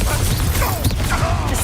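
A Confringo blasting spell cast in Hogwarts Legacy, heard as a dense, crackling burst of game noise with low rumble that stays loud and steady for under two seconds.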